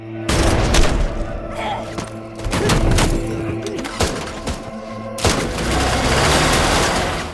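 Bursts of gunfire from the action film Peninsula, with repeated loud shots and volleys in a rapid, uneven rhythm over a dense, booming background. A brief voice may be mixed in.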